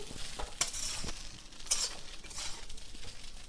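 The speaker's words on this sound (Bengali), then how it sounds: "এবার এটাকে ভালো করে একটু নাড়াচাড়া দিতে হবে।" Chira (flattened rice) pulao gets stirred in a pan after sugar is added: repeated close scraping strokes of a spoon over a soft, continuous sizzle, with a couple of light clinks and no voices.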